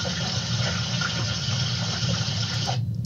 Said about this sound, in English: How about trickling water?